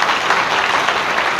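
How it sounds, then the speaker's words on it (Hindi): Audience clapping at a Brahma Kumaris introduction and honour ceremony, a dense steady patter of many hands that holds at an even level from start to finish without voices. "ताली तो बजाओ आपने"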